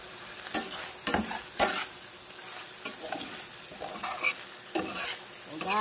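Previously fried tofu added to buttered shrimp in a hot pan and stirred, a steady close sizzle broken by several sharp spatula scrapes and clanks against the pan, with no talking.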